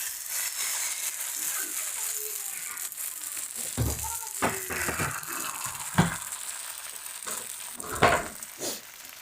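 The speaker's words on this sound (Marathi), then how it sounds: "तर आता पसरून घेऊ, छान मस्त पिठाचं पसरवलं आहे" Rice flour dosa batter sizzles on a hot pan, a steady hiss running throughout with scattered scraping knocks as the batter is spread, close and fairly loud.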